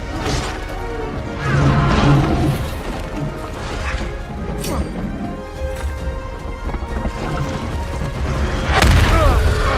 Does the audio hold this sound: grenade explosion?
yes